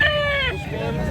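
A rooster at a chicken stall in Carbon Market, Cebu, lets out a short, drawn-out crow close by, with market chatter and voices underneath.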